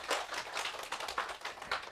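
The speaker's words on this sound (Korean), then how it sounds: "힘내라고 박수 한번 쳐줄까요?" A classroom audience claps to cheer a student on, giving quick, dense, fairly loud applause for a brief moment with no talking.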